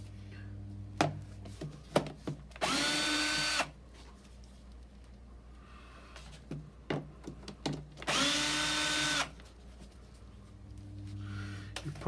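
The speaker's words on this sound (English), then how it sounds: "a drill with a Phillips screwdriver bit in, so I'll show you how easy it is to get it off now" Power drill with a Phillips bit backing screws out of an air filter cover on an AJS Modena 125 motorcycle: two loud, sustained whirring bursts of a few seconds each, separated by clicks and handling knocks.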